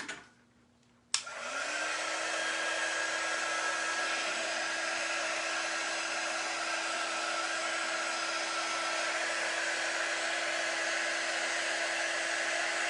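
A hair dryer blows on freshly painted autumn leaves, starting after a brief quiet moment with a click and then running as a loud, steady whoosh with a constant whine for the rest of the time.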